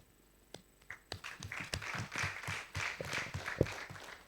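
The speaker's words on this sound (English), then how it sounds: "Let's give a clap to Baraka." Scattered audience clapping at a children's AI summit, starting with a few isolated claps and building into a modest burst of many hands, fairly quiet and a little distant, with no speech.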